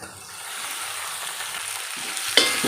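Vegetables for hakka noodles hiss loudly as they are stir-fried in a hot pan, a steady sizzle with a sharp scrape of the utensil near the end.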